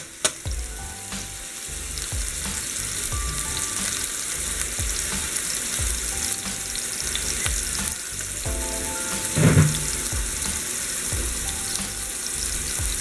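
Fish sizzles steadily in a large frying pan as it is sealed for a coconut curry fish stew, with a continuous, close, bright hiss of hot oil, a few soft stirring clatters and no talking.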